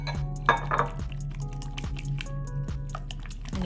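Bread pudding custard with melted butter and heavy whipping cream being mixed in a bowl, with soft wet squishing, light clinks of a utensil against the dish, and a steady rhythmic stirring pulse.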